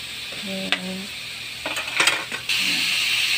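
Food browning in a pan, stirred with a utensil: a few metallic clinks and scrapes over a soft sizzle that swells to a steady louder frying hiss toward the end.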